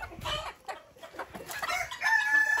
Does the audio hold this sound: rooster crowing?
yes